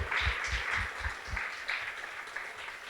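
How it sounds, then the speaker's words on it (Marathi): Clapping from a church congregation for their pastor, a brief scattered burst of hand claps that thins out over a few seconds, moderately loud in a reverberant hall. "एक टाळी वाजूया आपल्या पास्टरसाठी"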